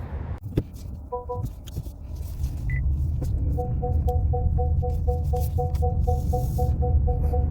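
Car being driven at low speed, a steady low engine rumble and road noise rising after a few scrapes and clunks, with a repeating electronic chime sounding through the cabin.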